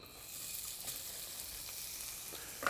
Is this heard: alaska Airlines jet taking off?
no